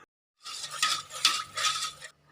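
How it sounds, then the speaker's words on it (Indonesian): A spoon stirs fresh medium-thick coconut milk into banana cake batter in a bowl, three soft scraping strokes close by with no talk. "Kemudian diaduk agar sausnya mudah tercampur dengan rata."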